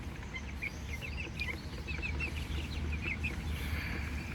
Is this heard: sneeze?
no